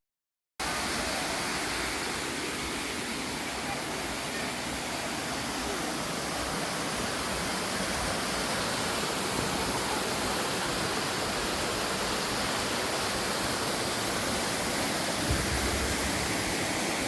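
A steady, dense rush of falling water at the Theologos waterfall roars continuously and evenly, loud and close, with no other sounds standing out.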